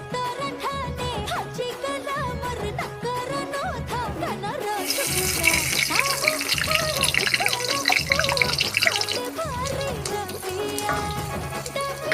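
Water runs and splashes while raw mutton is washed by hand. The trickling and sloshing continue throughout and grow louder partway through, with background voices and music.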